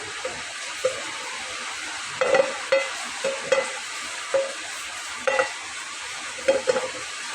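Oil swirled and heated in a frying pan before cooking spiced paturi wrapped in bottle gourd leaves, a steady hiss with repeated rhythmic scrapes and knocks of a utensil, close and clear, no speech.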